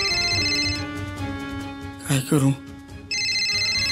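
A mobile phone ringtone plays a steady repeating melodic ring, pausing briefly while someone speaks over it, then resuming loudly.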